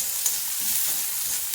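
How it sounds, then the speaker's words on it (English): Chopped onion and green chili fry in a hot pan over a raised flame, giving a steady, close sizzling hiss that continues without a break. "I added my chopped onion and this green chili, and I will increase the flame"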